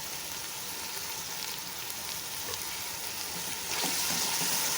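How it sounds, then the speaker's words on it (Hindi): Ground spices sizzle steadily in hot oil in a pot for beef paya curry, with a dense, even hiss close by, rising slightly toward the end, with no talk. "अच्छी तरह भुनाई कर रही हूँ मसाले की।"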